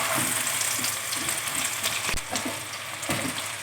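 Yogurt is stirred into a sizzling chicken yakhni pulao in a pan, giving a steady loud frying hiss with soft scraping stir sounds and no talk.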